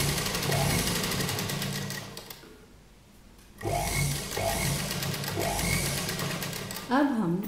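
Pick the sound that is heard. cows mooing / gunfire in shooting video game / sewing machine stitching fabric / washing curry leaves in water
sewing machine stitching fabric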